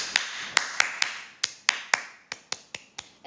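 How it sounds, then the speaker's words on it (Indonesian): A person performs a tepuk semangat clapping routine, a dozen or so sharp, close claps in a lively rhythm. The claps are evenly paced at first, pause briefly, then resume, with no talking over them. "Ini tepuk semangat"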